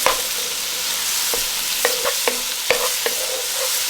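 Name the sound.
sautéing tomatoes and stirring them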